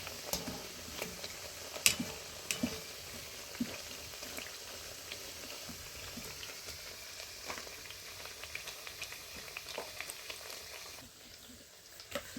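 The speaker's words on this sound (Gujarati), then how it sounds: "તો જો મિત્રો આપણે બધા ઢેબરા તળાઈ જશે." Dhebra flatbreads fry in hot oil with a steady bubbling sizzle and scattered sharp crackles, close and fairly quiet, easing off near the end.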